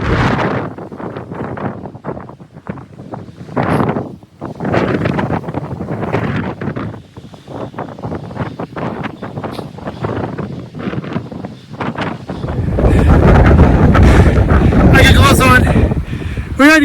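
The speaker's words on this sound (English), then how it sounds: "Wind's about, I'd say 30 to 40 miles an hour." Strong gusting wind, about 30 to 40 miles an hour, buffets the microphone on a cold mountain climb up Brown's Peak in Arizona's Four Peaks Wilderness, loud and roaring, swelling into a heavy blast near the end.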